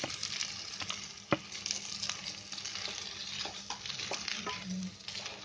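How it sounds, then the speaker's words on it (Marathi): Grated potatoes stirred in hot ghee in a pan while cooking a Navratri fast potato barfi, a steady soft sizzle with scraping stir strokes and one sharp knock, close and fairly quiet. "आता त्याच्यामध्ये आहे ना हे बटाटे किसलेलं आहे ना ते त्याच्यामध्ये टाकायचं आणि चांगलं आहे ना घी मध्ये फिरवून घ्यायचं"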